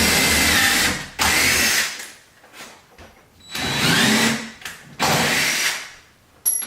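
A power drill driving screws through the corners of a new construction window into a wall, three loud whirring bursts of a few seconds each separated by pauses, close by.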